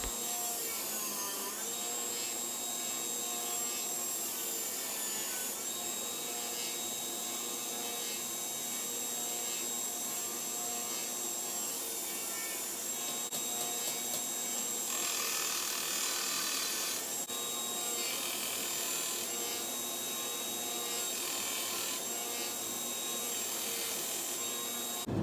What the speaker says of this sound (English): Now I'm grinding it down to my tang.